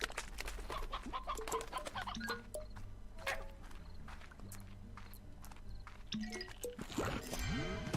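Chickens clucking in the video game Slime Rancher, scattered clucks amid rapid footstep-like clip-clops and bright chiming game effects, fairly faint with no talk.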